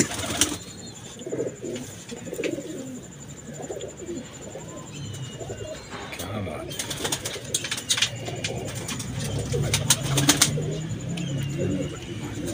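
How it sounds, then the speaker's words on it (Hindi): Ferozepuri breed pigeons coo softly and repeatedly at close range, with wing flutters and rustling movement among them. "ये है जी हमारी फरोजपुरी ब्रीड"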